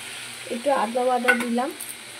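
Cumin powder and ginger paste fry in a pan while a utensil stirs them, a brief, close scraping stir with a squeaky tone over a light sizzle.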